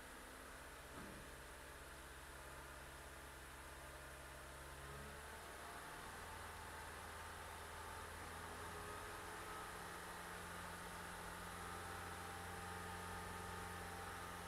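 A 2013 Toyota Camry engine revved steadily at around 2,000 to 3,000 RPM to warm up, a constant close mechanical hum and drone with a slight pitch shift partway through, no voices.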